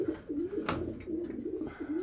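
Soft, repeated pigeon coos roll along at close range, with a sharp click or tap partway through, from a flock of fancy pigeons kept in Germany.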